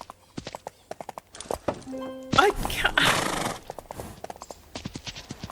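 Horses' hooves clip-clopping in a steady, close rhythm on a hard surface, with a brief loud clatter and a whinny midway, while a person speaks briefly over the hoofbeats.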